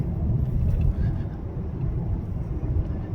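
Inside a 2025 Chevrolet Silverado 3500HD on a rough road, a deep steady road rumble and low drone fill the cabin with faint bumps, while muffled talk sits under the noise.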